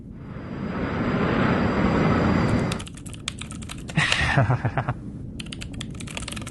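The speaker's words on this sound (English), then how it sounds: "What are you typing over there?" A rushing, airy noise gives way to rapid clicking of keyboard keys being typed in quick bursts, close by.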